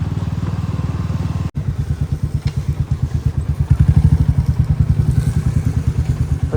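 A Bajaj Dominar motorcycle is ridden on a road, its single engine thumping in a loud, close, steady pulse that briefly cuts out before picking up again.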